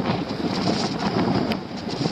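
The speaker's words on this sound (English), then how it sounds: "And it is windy." Strong wind buffets the microphone in a steady, rumbling roar with no voices, on a shore at night as a storm approaches.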